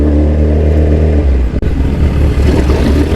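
Steady, loud street traffic in San Pablo City, with a nearby car engine humming and then revving and whirring past. No one speaks.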